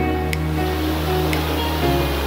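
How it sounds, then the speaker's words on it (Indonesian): The Mertapan waterfall (Air Terjun Mertapan) roars with a steady, dense rush of falling water, loud and continuous throughout. "dari sini air terjunnya"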